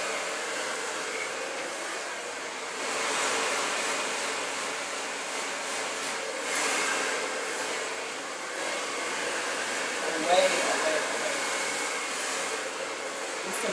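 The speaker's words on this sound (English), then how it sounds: "I wanna make sure the blow dryer is constantly moving in a direction away from the scalp" A blow dryer runs continuously over very long hair, a steady airy whir that swells and dips slightly as it moves away from the scalp, with no talking.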